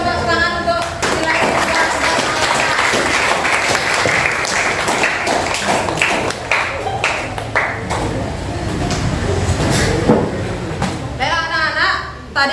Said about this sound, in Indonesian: Berikan tepuk tangan untuk Keila.